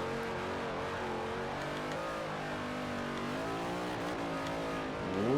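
A race car revs hard and steadily up a King of the Mountain hill climb in Forza Motorsport 4, the engine note shifting with gear changes and a brief tyre squeal near the end, loud and constant without speech.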